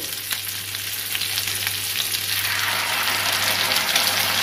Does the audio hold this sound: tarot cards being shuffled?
no